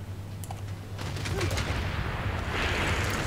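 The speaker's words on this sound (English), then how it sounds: "So I'm firing the guns from there, firing the guns from here." Battleships fire naval guns at a city in the strategy game Civilization 6, producing a rumbling burst of gunfire with booming low thuds and a swelling roar toward the end.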